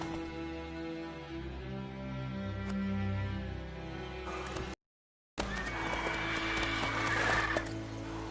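Roach, Geralt's horse in the video game The Witcher 3: Wild Hunt, whinnies loudly and close, a long neigh followed after a brief gap by snorting and hoof clip-clop amid game ambience.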